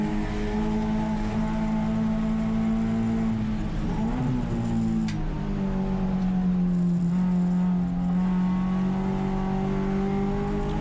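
A race car engine at the Pacific Grand Prix drones steadily at high revs, its pitch dipping briefly during a downshift before settling into a sustained, loud roar with no talk.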